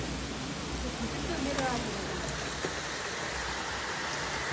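Steady, dense rainfall hissing across the whole clip, a loud continuous wash with occasional nearer drips and splashes.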